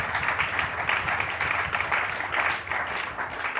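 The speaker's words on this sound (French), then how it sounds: "Applaudissons pour le Seigneur." A church congregation applauds, a brief, dense patter of many hands clapping together at moderate distance, fairly faint and with no voices over it.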